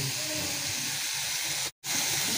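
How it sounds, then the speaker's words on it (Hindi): Cabbage, onion, peppers and chicken sautéing in a pan, a loud, steady sizzling hiss close up that cuts out for a brief moment before resuming, with no talking. "इसको भी हल्का सा सौते कर लेते हैं, हल्का सा फ्राई हो जाएगी।"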